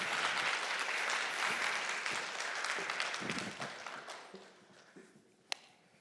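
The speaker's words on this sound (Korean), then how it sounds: "목사님 나오실 때 여러분들 뜨거운 박수로 환영해 주시기를 바랍니다." Warm applause from a church congregation at a Sunday worship service in downtown Seattle greets the pastor, a dense clapping wash that thins and fades toward the end, with a single sharp tap near the close.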